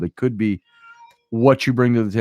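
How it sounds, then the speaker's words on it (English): A house cat meows clearly in a short pause between a woman's spoken sentences, a brief nearby call heard under a quiet room. "That was my cat, if you heard that."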